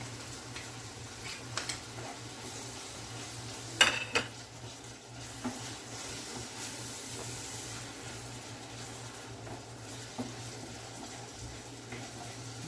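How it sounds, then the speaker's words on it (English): Corned beef frying in a pan with herbs gives a soft, steady sizzle with occasional utensil clinks and stirring, fairly quiet with a low hum in the background. "I'm just going to fry it in with the herbs."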